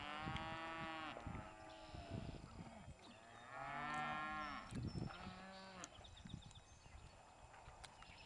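Cows out on summer pasture moo repeatedly, several long, deep, drawn-out calls overlapping from nearby and farther off, with hooves thudding between them and a quiet outdoor background.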